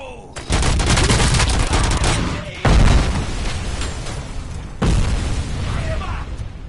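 Explosions and heavy gunfire in the Robocop Rogue City video game, loud booming blasts at roughly two-second intervals with crackling bursts and rumbling tails between them.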